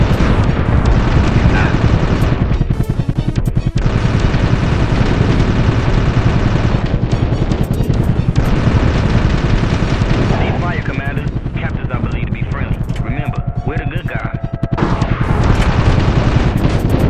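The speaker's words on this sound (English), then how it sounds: "Those are not champagne corks. It's a good old-fashioned dictatorial firing squad." Firing-squad gunfire in the PS1 video game Soviet Strike, loud sustained volleys of rapid shots roaring almost continuously, with brief lulls and a rumbling, explosive background.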